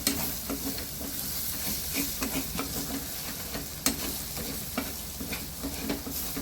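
Turmeric and spices frying in a pan are stirred steadily, giving a constant close sizzle with soft repeated scrapes of the spoon and no voices.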